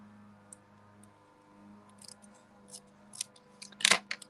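Scissors trimming card paper at an angle in a card-making session: a series of small crisp snips, then a louder cut near the end, close up over a faint steady hum.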